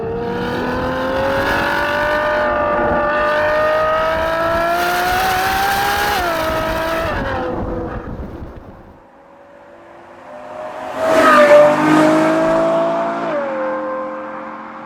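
A high-revving Ferrari FF V12 engine accelerates hard, its pitch climbing through the gears, dropping briefly, then surging again loudly before easing off.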